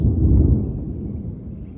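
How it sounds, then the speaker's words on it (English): A deep, low thunder rumble rolls from storm clouds over Toowong. It is loud at first, then gradually fades. "Just look at those storm clouds above me and hear the thunder."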